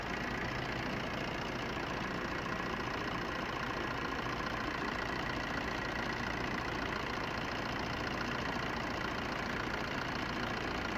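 A used car's warmed-up engine idles steadily with a continuous, even mechanical rumble, close and moderately loud, with no voices.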